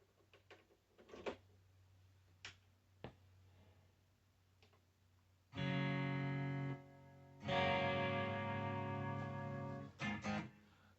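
A Tostar 39-inch electric guitar played through its 10W amplifier with reverb and chorus: a few muted picks and clicks, then two long, loud sustained strummed chords that ring out, followed by brief string noise.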